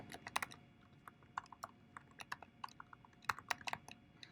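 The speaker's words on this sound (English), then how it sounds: "I have to type it right." Fast, uneven typing on a computer keyboard at a desk, crisp individual key clicks in quick bursts with short pauses, close and fairly quiet, no talking.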